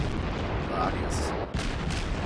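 German cruiser guns ripple-firing in World of Warships, a dense rolling barrage of overlapping booms filling the whole short stretch, with a sharper report near the middle and crackling tails.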